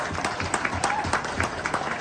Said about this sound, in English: give yourself a round of applause for you guys